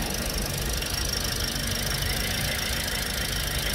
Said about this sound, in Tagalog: pangit yung andar na makina